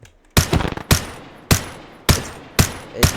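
Gun hip fire from the Timeless and Classics Gun Mod in Minecraft, with five loud, sharp single shots spaced roughly half a second apart, each with a short decaying tail, the first followed by a brief rattle.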